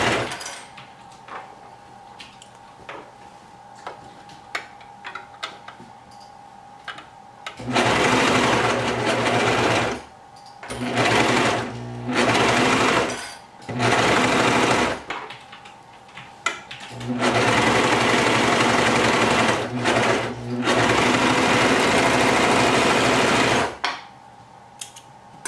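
A Brother 1034DX serger sewing fabric for baby bell-bottom flare pants, its loud rapid whirring running in long bursts with several brief stops in between, after a quieter stretch of soft handling noises.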